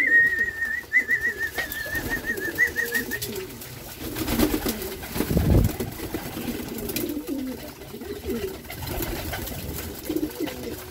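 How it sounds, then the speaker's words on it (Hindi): Pigeons coo softly and repeatedly close by, with a flurry of wingbeats midway and faint ambient noise throughout. "कबूतर उड़ के आए"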